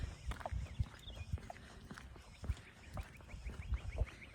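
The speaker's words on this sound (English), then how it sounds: "there's a geese down there ready to join us" Distant honking calls from geese, scattered and faint, mixed with nearby footsteps and soft thumps.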